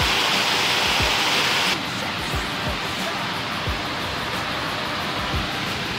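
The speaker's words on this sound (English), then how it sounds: "Nothing more enjoyable than a waterfall over here." Waterfall flowing nearby on a weekend bike ride in Central New York, a steady loud broadband rush that drops in level partway through, with low thumps from movement underneath.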